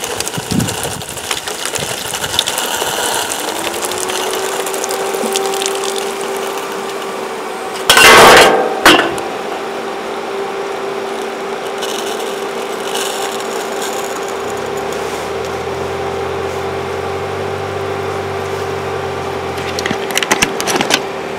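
Running LCD projector with soda poured into it: a continuous fan and electrical hum, a loud crackling burst of fizzing and sputtering partway through, then a lower altered drone as the unit keeps running.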